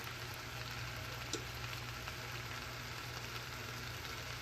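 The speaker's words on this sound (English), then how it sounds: "here we have some flour and some butter, and we're gonna make our roux" Flour and butter sizzle together in a pan for a roux, a steady low frying hiss with a faint hum beneath and one small clink.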